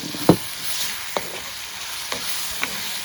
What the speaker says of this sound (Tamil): இப்போ நாங்கள் தக்காளி பழத்தை போடுவோம்